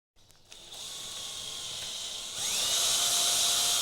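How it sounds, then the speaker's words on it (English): A power drill fitted with an M8 bit bores into a cab locker in a VW Crafter camper van conversion, a high whine that holds steady, then rises in pitch and loudness as the bit bites. "It's now marked, ready to be drilled with an M8 drill bit."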